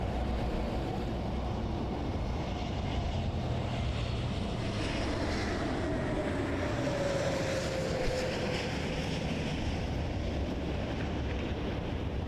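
An Air Transat airliner's jet engines drone steadily at Toronto Pearson Airport, heard from a distance. A whining tone slowly falls in pitch over a broad, continuous rumble, with no talking.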